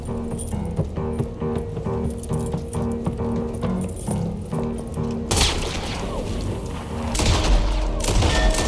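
Gunfire in Red Dead Redemption 2 during the Chapter 6 Beaver Hollow cutscene: a tonal background bed gives way midway to a loud, close fusillade of overlapping shots and booms that swell again near the end.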